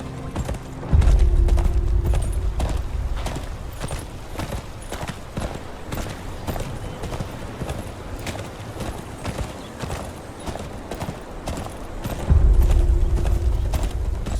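Horse hooves clip-clop in a steady rhythm in Game of Thrones Kingsroad while a low engine-like hum swells in at the start and again near the end.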